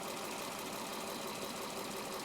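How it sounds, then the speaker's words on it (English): A 2014 Audi Q7 engine runs at a steady idle, producing a continuous even hum with a faint mechanical rattle, heard close up and without any talking. "We don't have to keep the engine running."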